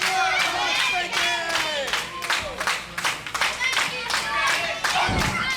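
Wrestling crowd claps in rhythmic unison to rally behind a wrestler, steady repeated claps with shouting voices and commentary talk over the top.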